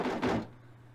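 A door in the video game Persona 4 Arena Ultimax opens with a single soft, muffled thunk that has a brief second knock. A quiet low hum lingers afterward.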